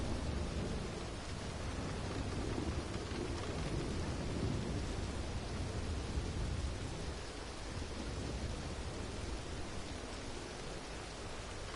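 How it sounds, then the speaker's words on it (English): In Red Dead Redemption 2, a lightning bolt brings a long, rolling thunder rumble that blends into steady, dense rain-like noise, continuous and fairly loud throughout. "Just that one bolt of lightning."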